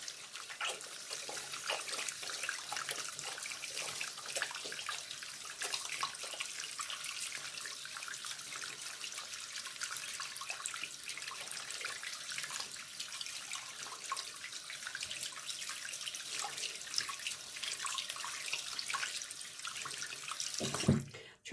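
Lukewarm water runs steadily from a tap into a sink, a continuous close splashing stream that holds even for about twenty seconds before a brief clatter at the end.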